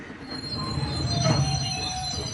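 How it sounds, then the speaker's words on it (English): Steel wheels of an arriving Virgin train squeal steadily against the rails, with a rumbling low roar swelling slightly toward the middle of a short, continuous passage. "Here comes the train."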